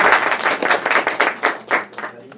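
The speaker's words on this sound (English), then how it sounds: "Yes, you can clap." A seated audience at an interfaith panel event claps in a burst of applause, individual claps distinct and rhythmic at first, then thinning and fading out toward the end.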